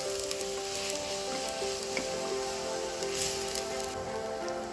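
Green chillies sizzle and fry with ginger garlic paste in a pan, a steady, close crackling hiss with faint stirring that carries on without pause.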